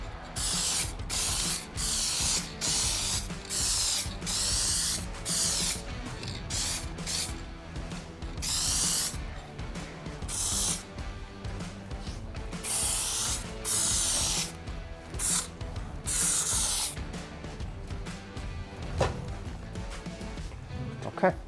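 Repeated bursts of spray paint hiss in short, even strokes as a coat goes onto a Toyota 4Runner during a scratch repair, each pass close and loud with brief pauses between.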